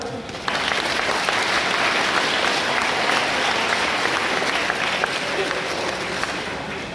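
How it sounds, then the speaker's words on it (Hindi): An audience of school students at a seminar breaks into applause, a dense, continuous wash of clapping that starts abruptly and stays loud throughout. "इसके लिए जरा ताली बजाएंगे जरा"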